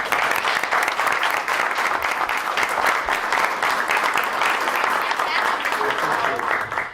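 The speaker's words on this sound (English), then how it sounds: "let's give you all a round of applause" Audience at a school board meeting applauds standing parents and family members, continuous dense clapping at even loudness, with faint voices underneath.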